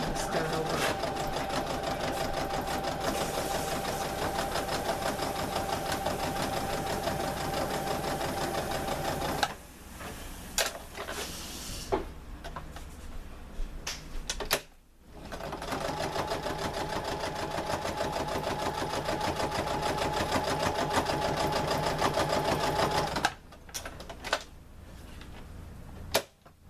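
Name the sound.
sewing machine stitching a DIY bikini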